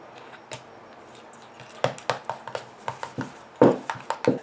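Calendula is mixed into a cosmetic cream, giving a series of soft, close scraping and tapping strokes from the utensil against the container, sparse at first and then quicker and more regular.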